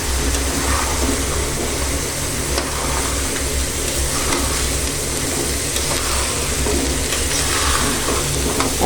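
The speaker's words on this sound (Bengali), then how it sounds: "এখন আমি ছোলাটা দিয়ে দিচ্ছি। এখানে আমি 1/2 কেজি ছোলা নিয়েছি।" Half a kilo of chickpeas frying and being stirred in a pan, a continuous dense sizzle with scraping stir noises rising and falling, loud and close, with no talking.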